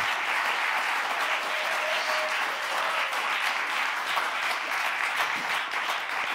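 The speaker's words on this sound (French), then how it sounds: "c'est à juste titre que vos applaudissements saluent un musicien" Sustained applause from a concert audience at a performance of medieval fourteenth-century music, a dense, steady wash of many hands clapping throughout, fairly loud and even with no talk over it.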